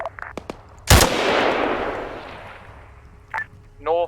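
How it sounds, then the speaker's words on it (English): A mortar fires once in the Arma 3 video game, a sharp loud blast followed by a long rumbling decay, with brief radio chatter and voices around it. "we hear them firing again"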